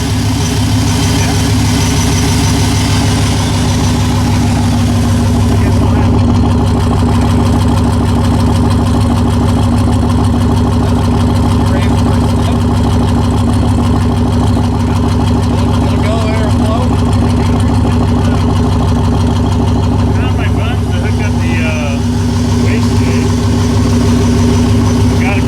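A turbo LS-powered burnout truck, rusted and neglected, idles with a steady, deep rumble that runs continuously, close and loud.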